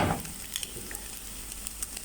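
An egg frying with cheese in a pan crackles and sizzles softly, a steady close fizz with small pops and no talk.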